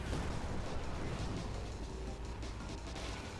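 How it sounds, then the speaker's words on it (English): Rockets fire in a parking-garage rally racing video game, giving a loud, unbroken wall of explosive bursts and crackling rumble that holds steady for a few seconds. "Rockets."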